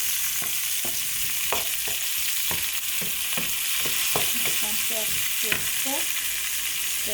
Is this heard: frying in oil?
yes